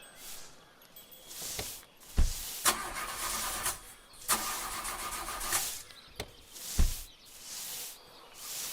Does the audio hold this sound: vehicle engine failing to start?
yes